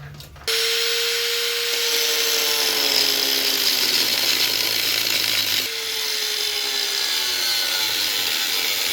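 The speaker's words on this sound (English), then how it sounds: "I'm literally just drilling it out from the sides because I don't want to put the grinder." A power drill bores out a hole in metal for J-series motor mounts, giving a loud, steady whine that runs for nearly nine seconds and dips briefly partway through.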